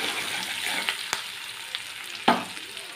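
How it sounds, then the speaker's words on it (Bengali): Ginger frying in a pan alongside fried elephant foot yam and potato, a steady close sizzle with a few sharp stirring clicks and scrapes, no talk. "এবার মাঝের দিকটা একটু ফাঁকা করে নিয়ে ওর মধ্যে আমি দিয়ে দিচ্ছি আদাটা দিয়ে একটু কিছুক্ষণ ভেজে নেব।"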